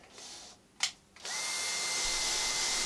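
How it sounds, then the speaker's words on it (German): A power drill bores through a wooden board into plastic during a separating toilet install in a camper van: a brief spin-up and pause, then a loud, steady high whine held to the end. "indem wir durch die Holzplatte hindurch in das Kunststoff bohren"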